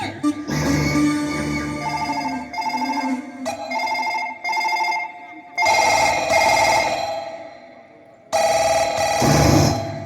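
A telephone rings in repeated bright electronic bursts, loud and close, with a steady tone lingering between rings while voices speak.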